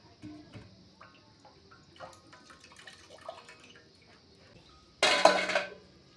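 Metal kitchen pots, pans and utensils clink and clatter in an Uttarakhand home kitchen, soft scattered knocks and water drips building to a loud, bright crash of clanging dishes near the end, without speech.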